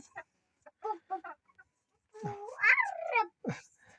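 Chickens give a few short, scattered clucks near a household, followed by a longer, drawn-out rising cry and a last brief call.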